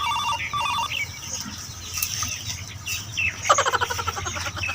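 A telephone rings with short repeating electronic tones in a comedy sketch, fairly near and clear over a constant low background hum, with a louder burst of ringing near the end.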